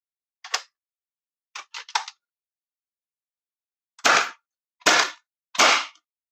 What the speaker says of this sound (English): Let's attach the air again. Fire a few darts.